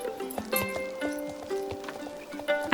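Young horses' hooves clip-clopping in a steady, uneven rhythm at close range, with soft snorts and tack sounds around them.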